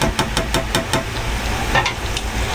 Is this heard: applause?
no